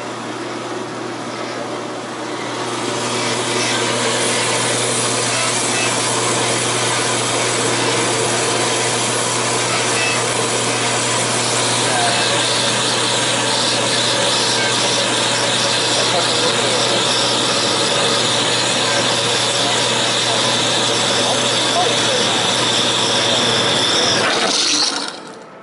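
A workshop bandsaw makes a heavy first cut through hard metal: a dense, steady grinding whine with a low motor hum runs loudly and continuously for about twenty seconds after a quieter start, then cuts off abruptly at the end.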